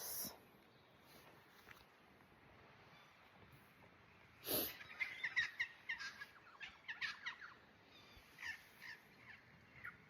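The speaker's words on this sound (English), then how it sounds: "And birds there." Crows and other birds call outdoors in nature after days of rain, with a sharp nearby caw around the middle followed by a run of clustered chirps and caws over quiet background ambience.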